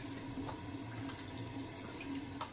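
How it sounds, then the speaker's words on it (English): A bathroom tap running steadily while shaving residue is rinsed off, a soft, even hiss of flowing water with faint splashes, with no talk over it. "Let me wash this stuff off here."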